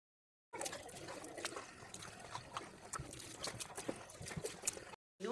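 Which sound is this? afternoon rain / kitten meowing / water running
water running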